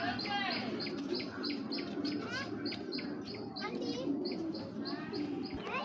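Cheeta Military breed pigeons coo and chirp close by, with repeated soft tweeting calls in a steady pattern over a low, rumbling background murmur.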